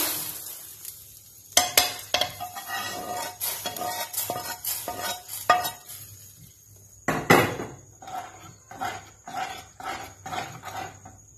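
Rice frying and being stirred in a pot while making payesh, a spoon scraping and clattering against the pot in irregular bursts over a steady low sizzle, close and without talk.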